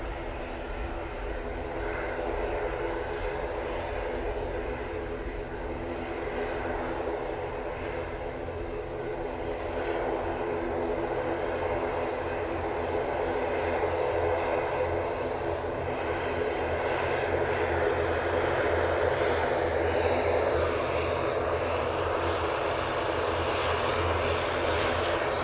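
A turboprop airliner departs from Manchester Airport bound for Belfast, its steady propeller and engine drone holding loud and continuous throughout, swelling slightly toward the end with no voices.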